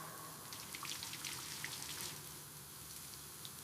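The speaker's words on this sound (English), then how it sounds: "I take a shower" Shower water running, a continuous soft hiss of spray with scattered drips and patters, steady and moderately quiet throughout.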